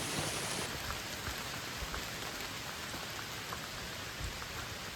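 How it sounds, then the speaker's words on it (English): Steady rain falls outdoors along a long-distance trail, pattering evenly on surfaces with scattered distinct drops. The sound is a soft, continuous hiss, and no voices are heard. "Feels like it started raining again."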